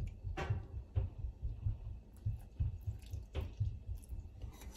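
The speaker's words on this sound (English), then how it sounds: "Oh, you hear it? It's bubbling." Caramel with vanilla bubbles in a pot on a switched-off stove, giving soft irregular pops and gurgles heard up close, quiet and without talk.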